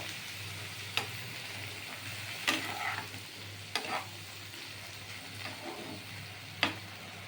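Egg tarka being stirred in a frying pan: a steady low sizzle with a handful of sharp spatula scrapes and knocks spaced a second or so apart, close and alone with no talk.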